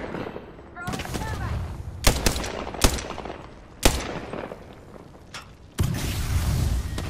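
Gunfire in the Apex Legends video game during a firefight, with several loud sharp shots and short bursts at irregular intervals over low background noise, close by.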